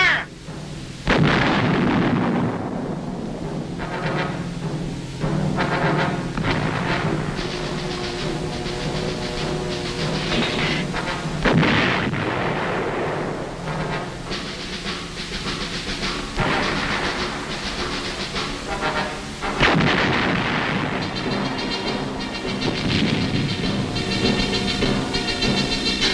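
Heavy guns of the 101st Airborne fire on Viet Cong positions in Phu Yen province, Vietnam, 1966: three loud booms roughly ten seconds apart, each rolling out into a long rumble over a steady tonal background.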